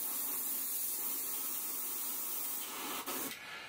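Airbrush sprayed out to check it is clean, a steady loud airy hiss filling the clip before tapering off with brief breaks near the end.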